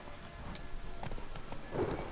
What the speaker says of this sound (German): Blitze, du bist das beste Pferd, das wir jemals haben.